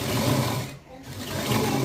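A sewing machine stitches a blouse hook-and-eye strip, a steady close whirring hum that briefly drops away and then resumes.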